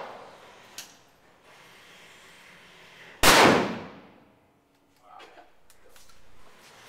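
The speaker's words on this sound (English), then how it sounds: "Now we're shooting on top of a standard soft trauma plate." A single loud gunshot cracks sharply into Armor Express Seraph body armor over a standard soft trauma plate, followed by a fading ring, with quieter handling noises and faint voices before and after.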